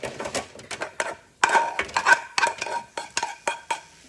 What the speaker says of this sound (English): I'm gonna go ahead and drop it now onto this cookie sheet.